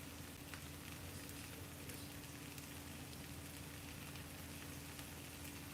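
Warm cheese sizzling steadily in a pan, a continuous fine crackle and hiss like light rain, heard close with no talking over it.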